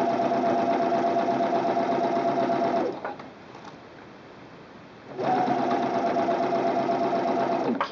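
A sewing machine stitches stretched elastic onto fabric for a gift bag, humming steadily and loud up close, then a brief quieter pause before the motor runs again at the same even speed.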